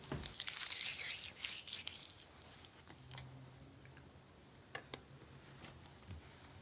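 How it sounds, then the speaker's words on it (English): Masking tape peeling off watercolour paper, heard as a near, crackly tearing rip in the first couple of seconds, followed by quiet handling and a couple of faint ticks. "All we have to do now is remove the masking tape"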